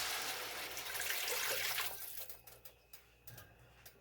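Water pours into a cooking pot for a boxed Zatarain's jambalaya mix, a steady close splashing rush lasting about two seconds before stopping, followed by a few light clinks and knocks.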